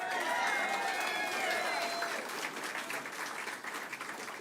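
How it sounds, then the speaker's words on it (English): An audience at a campaign office opening in Auburn, Maine breaks into applause and cheers, loud and dense from the start, then thinning slightly as the clapping continues. "Give yourself a round of applause."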